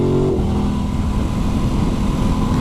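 A 2021 Aprilia RS660 sports motorcycle engine pulls steadily in third gear at 2000 rpm, its low throbbing note constant and close, with a brief rising whine at the very start.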